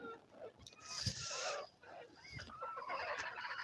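Local chickens cluck and call on a small chicken farm near the laying nests, several short clucks and squawks close by, mixed with faint background talk.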